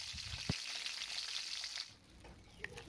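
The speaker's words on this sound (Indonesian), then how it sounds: "Kita goreng hingga bawang merah dan cabainya layu." Shallots and bird's eye chilies frying in cooking oil for Acehnese rebung cicah, a steady broadband sizzle that fades after about two seconds, leaving quieter crackles and a few sharp pops.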